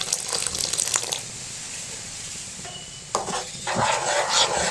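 About a cup of vinegar pours into mango kasundi with a bright, close liquid splash and trickle, briefly pausing midway before a steadier stream resumes.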